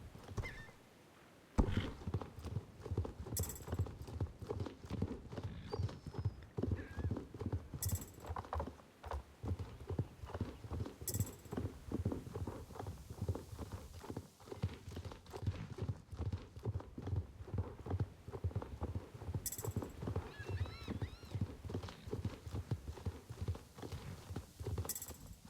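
A Connemara horse in the online game Star Stable Online trots with a steady, bouncy clip-clop of hooves close up, carrying on without a break while brief whinnies and small mechanical clicks rise over it.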